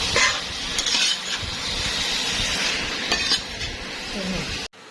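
Meat sizzling and being stirred in a pan, a steady loud frying hiss with scraping stir strokes throughout, cutting off abruptly at the end.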